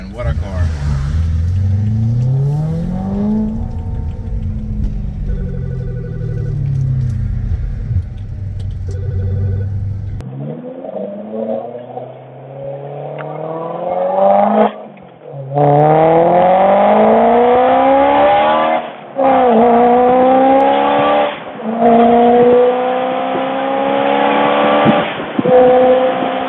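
BMW E90 M3 with a six-speed manual revving hard while driving, engine pitch climbing and dropping through repeated gear changes, loud and close, with a voice talking over it early on.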